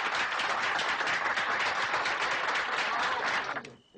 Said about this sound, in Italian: Vogliamo fargli un bel applauso